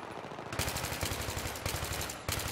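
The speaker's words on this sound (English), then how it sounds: "those are shooting at me from rocks" Rapid automatic gunfire in Battlefield 3 on Damavand Peak, dense repeated bursts of close shots at a fast even rhythm, with a brief gap before the firing resumes.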